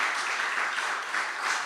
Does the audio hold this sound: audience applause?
yes